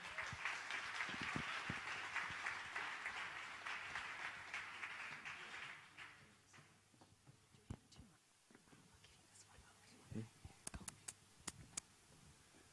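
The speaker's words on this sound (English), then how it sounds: "Big round of applause," An audience applauding to welcome speakers at a talk on artificial intelligence, a broad wash of clapping that fades after several seconds, leaving scattered claps and clicks.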